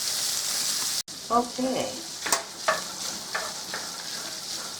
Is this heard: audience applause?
no